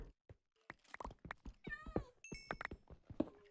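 A cat meows a few times in a modded video game, short tonal cries amid clicks and other game sounds, moderately close.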